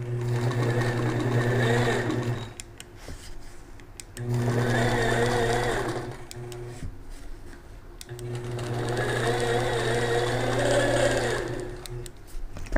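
A sewing machine runs in three long bursts of rapid, even stitching during free-motion quilting on a small quilt top, with short quiet pauses between runs, close and steady, and no speech.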